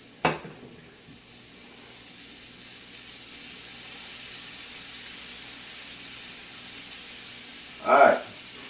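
Olive oil and butter hiss in a hot pan with a steady, close sizzle that runs the whole time, opened by a short clatter and ended by a brief louder burst.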